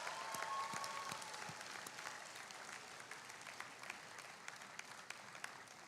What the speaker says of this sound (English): let's give a round of applause to all the class of 2025 for getting their degrees